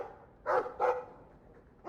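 A dog in a video game barks twice in quick succession, close and clear, followed by a pause and the start of a third bark.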